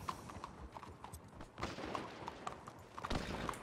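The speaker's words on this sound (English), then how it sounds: "Get on your horse." A horse in Red Dead Redemption clip-clops along at a steady walking pace, the hoofbeats faint and even, with a brief rustle and a sharper knock partway through.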